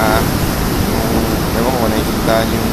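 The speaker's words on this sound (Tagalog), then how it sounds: "Lakas ng hangin." Strong wind roars steadily during Hurricane Isaac aboard an anchored vessel, a loud, dense rush of gusting air and churning water that fills the whole stretch without letup.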